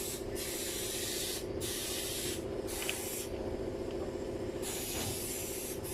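Bursts of aerosol spray from a can of special lubricant oil for seals and gaskets during a pump kit repair on a 395 PC machine, several close, loud hissing blasts with short pauses between them.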